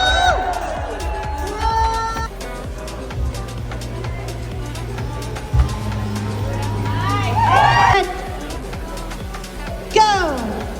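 Crowd cheers and whoops at a drone racing event, bursts of shouting rising and falling over a steady low hum, with scattered voices and a sharp whoop near the end.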